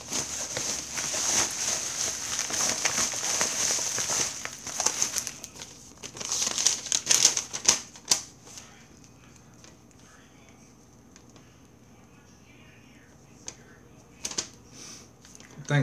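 Mailed packet torn open and its wrapping crinkled, close crackling and rustling in the first half that thins to sparse handling noises, with someone talking over it.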